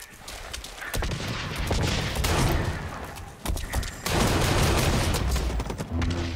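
Rapid gunfire from Blacklight: Retribution, loud dense bursts of automatic shots filling most of the moment, with brief pauses between volleys and no talking over it.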